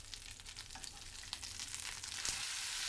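Salmon fillet with crispy skin frying in a pan, a steady soft sizzle with small crackles and pops, close and quiet, with no talking.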